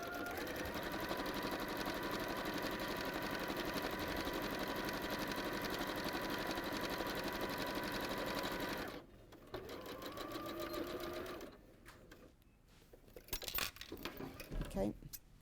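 A sewing machine stitches a half square triangle quilt block, running as a fast, steady motor whir for about nine seconds, then stopping and starting in shorter runs, with a voice talking briefly near the end.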